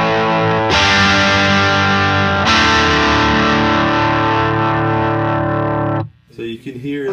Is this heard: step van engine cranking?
no